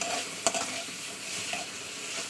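Prawns fry with pumpkin and potato in a pan, giving a soft continuous sizzle with one sharp utensil clack early on and light stirring scrapes afterward.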